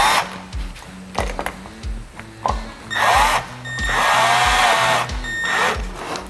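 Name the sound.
screwing electrical outlet into mud ring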